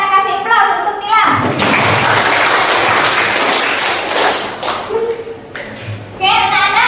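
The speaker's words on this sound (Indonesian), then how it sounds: "kita kasih aplaus untuk Nilam" A classroom of children applauds a pupil with a burst of clapping lasting several seconds, framed by a teacher's speech before and after.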